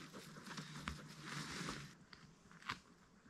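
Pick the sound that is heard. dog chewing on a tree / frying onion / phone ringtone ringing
dog chewing on a tree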